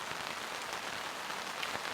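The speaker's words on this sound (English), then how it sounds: "because it's raining. Look at it." Steady rain patters on the fabric of a large air-frame camping tent, a dense, even hiss of drops with occasional louder taps, heard alone with no voices.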